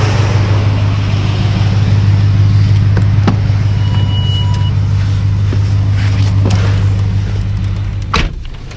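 Ford F-150 fitted with a CGS exhaust idling, heard from inside the cab: a steady, low droning hum runs throughout, with a few light clicks and a soft thump near the end.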